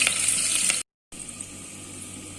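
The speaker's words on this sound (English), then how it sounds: "Now the onion, let it get little brown." Onions frying in a pan as they brown, a steady close sizzle that cuts out briefly for a moment before resuming.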